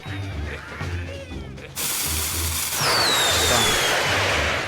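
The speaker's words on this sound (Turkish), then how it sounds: "bu ne havai fişekle geliyorlar bu sefer de" Fireworks in the Angry Birds PC game fizz and crackle, bursting into a loud sustained hiss after a couple of seconds; someone speaks over the game sounds.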